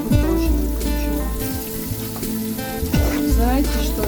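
A thin slice fries in a pan, giving a continuous close sizzle with occasional bubbling crackle and a couple of soft scraping movements.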